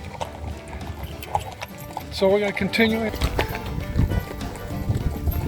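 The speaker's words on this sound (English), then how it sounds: "We're on our last leg of the horse riding." Horse hooves clip-clop on a countryside ride through Tuscan vineyards, a loose uneven rhythm of soft nearby steps, with people talking over it and brief jangling tack.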